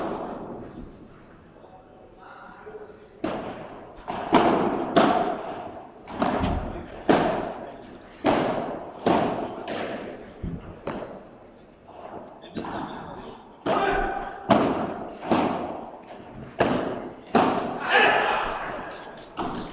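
Padel ball strikes land in a steady rally on a court at a French padel championship, a run of sharp, evenly spaced thuds and pops with faint voices beneath.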